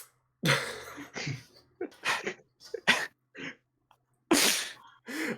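A person sneezes nearby in a quiet room during a tabletop D&D session, with several sharp bursts and breathy coughs or throat sounds spread across the moment, loud and close with silence between.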